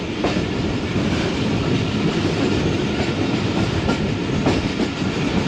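Allama Iqbal Express passenger train running on main-line rails, a loud, steady rumble with rhythmic clickety-clack of wheels over rail joints, heard close and continuous throughout.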